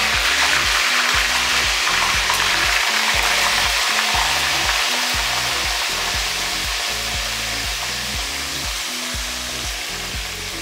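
Garlic and ginger sizzle steadily in hot oil over high heat, a continuous loud crackling hiss with occasional stirring scrapes.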